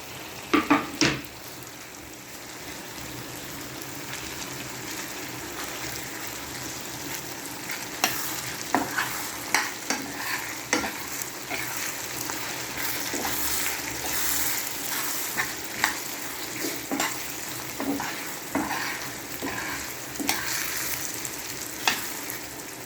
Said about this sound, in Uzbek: Endi to'g'ralgan pomidorlarni solamiz.